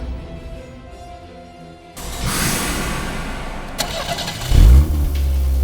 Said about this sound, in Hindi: इंजन की आवाज?